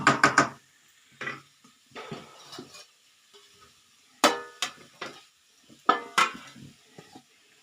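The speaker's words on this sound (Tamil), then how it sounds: "இப்போ நம்ம பாலக்காய் போட்டுக்கலாம்" Spinach dropped into a pan of nearly cooked potatoes for palak aloo and stirred, a few clustered scraping and clattering bursts of spoon against pan with faint sizzle between, close and alone.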